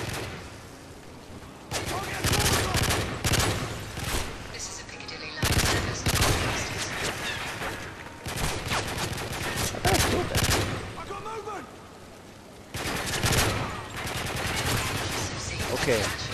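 Rapid high rate-of-fire gunfire in a Call of Duty: Modern Warfare 3 game, loud dense bursts repeating across the clip with short gaps, game voices speaking over the shooting.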